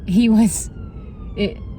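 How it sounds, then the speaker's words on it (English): An ambulance siren wails through city traffic, loud and near, with a rising-and-falling tone that cuts out and returns briefly over road rumble. "Oh, there's an ambulance."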